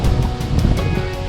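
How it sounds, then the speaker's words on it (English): Strong wind roars and buffets outdoors on the Bruce Trail, a loud, continuous rushing gust with low rumbling from the microphone. "it's very windy"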